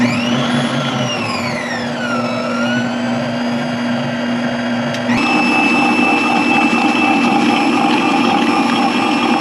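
A Nutrimill stand mixer runs with wire whisk attachments, giving a steady motor whine that glides down in pitch and then jumps to a louder, higher hum halfway through, with no talking.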